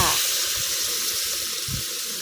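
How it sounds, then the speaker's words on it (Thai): Water poured into a pan of spicy catfish stir-fry, a steady loud rushing splash running unbroken at close range, with no one talking over it. "เราก็จะ เติมน้ำลงไปพอคลุกคลิกค่ะ"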